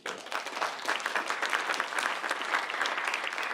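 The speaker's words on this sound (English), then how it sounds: "Round of applause." Steady, dense applause from a conference audience at a summit's closing panel session, sustained and even throughout with no voices on top.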